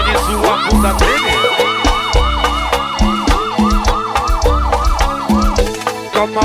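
A siren sound effect wails in rapid repeated up-down cycles inside a loud pagode track, riding over heavy drum hits and bass.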